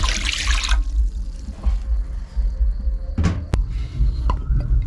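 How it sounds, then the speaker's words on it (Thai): Water used to rinse a mortar tipped into a cooking pot of Thai spiced village chicken: a short, bright splashing pour up front, then faint trickles and drips with a few small knocks. "น้ำล้างคกใส่ลงไปเลย"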